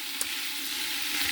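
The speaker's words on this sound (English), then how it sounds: "Alright, so we have our chicken in the pot. It is sizzling right now." Chicken pieces sizzling in a hot pot on a high stove, the start of a chicken and rice soup: a continuous close frying hiss with no talking.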